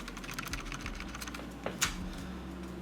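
Clicking of a Logitech G502 Lightspeed wireless gaming mouse: a rapid, clattering run of light clicks over a low background hum, with one sharper click near the end; close and steady, no talking.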